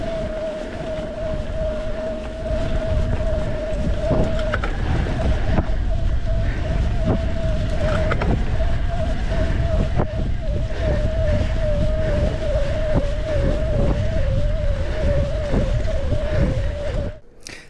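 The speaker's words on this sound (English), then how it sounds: "The first motor we'd like you to hear is a Shimano EP8 with 85 Newton meters of power." A Shimano EP8 electric mountain bike motor rated at 85 Newton meters runs with a steady, close whine over constant wind rush, holding its pitch for about seventeen seconds before cutting off.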